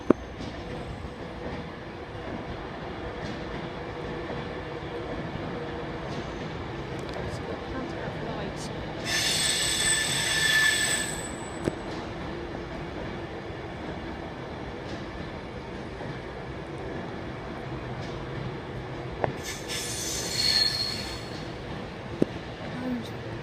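Pendolino train in Alstom special livery rolling past, a steady rumble of wheels on rails with a couple of brief high squeals and clicks, while a person talks over it.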